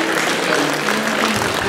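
A hall audience at a university singing contest claps in a dense, loud, even burst of applause.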